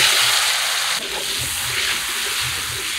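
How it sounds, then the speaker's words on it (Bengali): Potatoes tipped into very hot mustard oil in a pan give a sudden watery splash and a broad hiss that settles into steady sizzling, close and fairly loud, with no talk. "তেল টনটনা গরম হয়ে গেছে, আলুগুলো ঢেলে দিলাম।"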